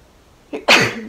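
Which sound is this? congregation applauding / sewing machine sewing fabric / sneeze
sneeze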